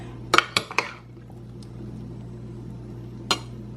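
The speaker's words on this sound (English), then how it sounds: "Don't want to mix too hard because I don't want the tomatoes to be disrupted." Tomatoes get mixed with salt in a bowl: a few sharp clinks of a utensil against the dish early on, then quiet with a low hum, and one more clink near the end.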